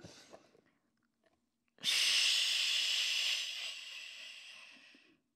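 A big exhaling breath during a Pilates reformer workout, a long, close, airy whoosh that starts abruptly and fades out over about three seconds after a quiet pause.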